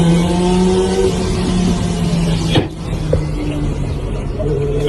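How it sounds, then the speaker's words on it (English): A motorbike engine speeds up during a road rage incident on a road, a steady rumbling drone with rising pitch that swells briefly near the middle, heard close and continuous with no talking. "You can hear the engine, the guy speeding up to get alongside him"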